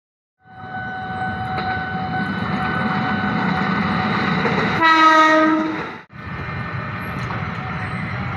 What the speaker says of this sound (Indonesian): kereta rel listrik Bogor Jakarta dan sebaliknya melintas